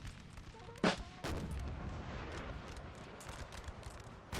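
Artillery fires in Napoleonic Total War 3 during a 4v4 battle at Fuentes de Onoro. A sharp cannon report is followed by a second heavier boom, then a rumbling battlefield din with scattered faint shots.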